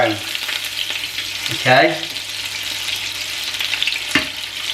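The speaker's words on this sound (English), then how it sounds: "go in with your spoon and make sure that the entire meatball is starting to brown" Meatballs sizzle and fry in a pan while a spoon scrapes and stirs them, a steady close crackle with a brief clatter of movement; a voice speaks once, briefly.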